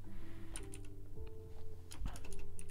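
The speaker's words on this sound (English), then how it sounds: "It's tough typing on a vertical keyboard." Soft clicking of keys typed on a vertical computer keyboard, a few quick uneven taps in small clusters over a low steady hum, fairly quiet and close.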